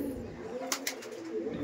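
Pigeons in a loft give soft, low cooing calls, close and gentle, with a couple of brief brighter sounds in the middle.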